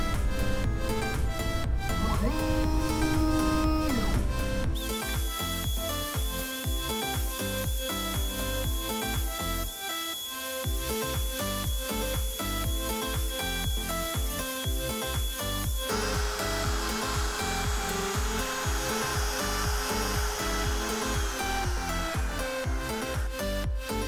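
A CNC router cuts with a 60 degree V bit, giving a loud, continuous machine whine with shifting motor tones that step and change pitch as the tool moves, with a brief dip midway.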